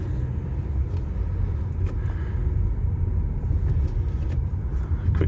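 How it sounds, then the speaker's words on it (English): A car driving at speed and shifting up through the gears, a steady, loud engine and road rumble filling the cabin with faint clicks and thumps along the way. "Quick go through the gears as far as I can at this speed."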